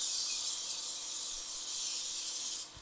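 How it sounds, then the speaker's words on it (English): Nonstick cooking spray hissing steadily from an aerosol can onto a pan, one continuous close spray lasting nearly three seconds before cutting off. "So you wanna spray it with nonstick spray."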